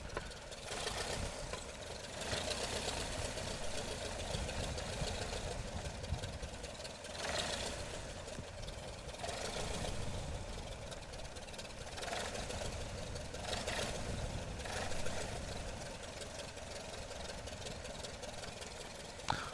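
A De Havilland Tiger Moth engine idles steadily while the biplane taxis, a continuous low rumbling drone with slight pulsing, heard close and without talk.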